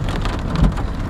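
Heavy rain pours steadily during a thunderstorm near the Kansas–Oklahoma border, a loud, dense, continuous hiss with a low rumble swelling briefly in the middle.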